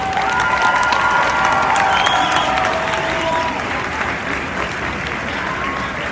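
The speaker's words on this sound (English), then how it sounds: "Let's give a big round of applause to everyone in the instrumental category." Steady, dense audience applause fills an awards ceremony hall for a choral and instrumental competition, a continuous wash of clapping with some crowd murmur and faint cheering, loud and unbroken throughout.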